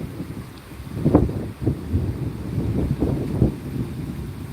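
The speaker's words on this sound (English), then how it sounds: "Because the wind is definitely starting to come through." Wind gusts through an open doorway at a Florida garden as a storm rolls in, a low rumbling buffet against the microphone that swells and fades in uneven pulses.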